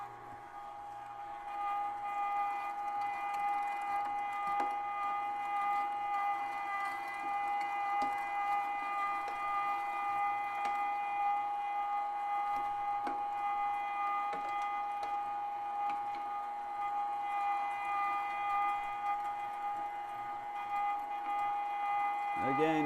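A Meat Your Maker 0.5 HP dual-grind electric meat grinder works through cubed, partly frozen deer meat, giving a loud, steady motor whine with a strong constant hum that runs unbroken for the whole stretch.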